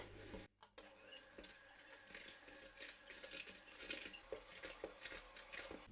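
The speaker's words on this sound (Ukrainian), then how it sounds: "До розм'якченого маргарину додаємо ванільний цукор. Всипаємо цукор і збиваємо." Softened margarine is beaten with vanilla sugar and sugar for shortbread dough: a steady whirring, mechanical beating noise with light clattering and tapping against the bowl, running continuously and fairly close.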